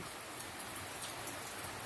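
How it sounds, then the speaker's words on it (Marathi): Faint, steady patter of light rain falling, an even hiss with no other sounds. "पाऊस एकदम ना बारीक बारीक पडतोय."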